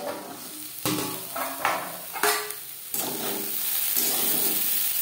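Teasel gourd cooks in oil in a pan, with a soft steady sizzle and a few sharp clanks and scrapes from a lid or spatula against the cookware.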